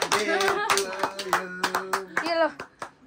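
Hands clap in quick bursts at a family birthday party while the birthday song is sung, with several clustered claps standing out over the voices and a child's speech.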